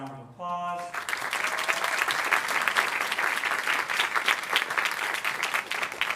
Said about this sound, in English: please join me in giving the finalists a round of applause